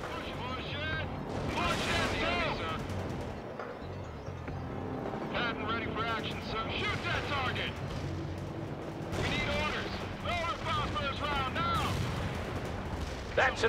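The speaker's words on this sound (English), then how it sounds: "Incoming fire." Incoming gunfire and artillery blasts in the real-time strategy game World in Conflict during a bridge defense, heard as rumbling bursts and shots under steady radio-style voices talking throughout.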